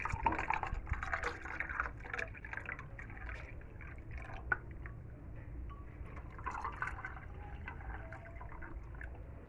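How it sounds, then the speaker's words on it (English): Homemade Jamaican ginger juice poured into a glass jug, a steady faint liquid stream with dripping and splashing throughout, no voices. "you just pour that goodness into your glass jug"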